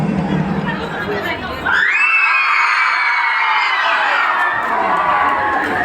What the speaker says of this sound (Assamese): এই যে চিঞৰটো মাৰিলে